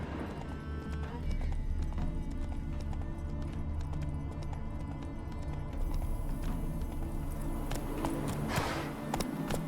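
Galloping hoofbeats of a horse named Roach in The Witcher 3, a steady rapid clip-clop running throughout with in-game ambience and a brief whinny-like sound.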